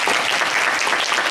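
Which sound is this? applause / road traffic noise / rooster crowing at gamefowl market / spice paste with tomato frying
applause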